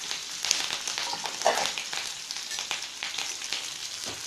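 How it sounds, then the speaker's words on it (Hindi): Chopped green chillies fry in hot mustard oil in a kadai, giving a steady, close crackling sizzle with a few sharper pops throughout and no talking. "अब इसमें हम कटा हुआ मिर्च को डाल देते हैं"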